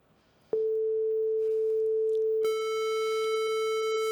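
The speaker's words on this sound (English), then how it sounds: "So I just played you a sine wave and a square wave." A pure sine tone from a JavaScript web audio oscillator starts abruptly and holds steady, then a brighter, buzzy square-wave tone joins at the same pitch and sustains to the end, both clear and alone.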